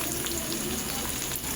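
Mixed vegetables (yardlong beans, papaya, ridge gourd, brinjal, pumpkin) frying and being stirred together in a pan, a steady close sizzle with soft scraping of the stirring, no voices.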